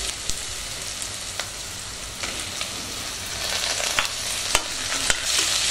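Tomatoes fry over browned onions in a pan for chicken biryani, a steady hissing sizzle broken by occasional scraping stirs of a spoon, with no talking.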